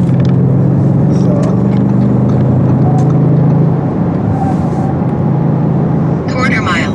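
An Audi RS7 C8 makes a quarter-mile run on the road. Its steady, loud engine drone is heard from inside the car with no break, and the tone shifts partway through.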